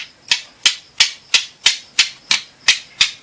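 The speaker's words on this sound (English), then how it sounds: "I'm not hitting very hard, just kind of scraping on it." Nine evenly spaced sharp clicks of stone striking and scraping stone while spalling off sharp-edged shards, close and crisp, each with a short rasp, in a steady rhythm of about three per second.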